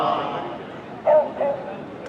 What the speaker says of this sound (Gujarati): આ બંને ડોગ બીગલ જાતિના છે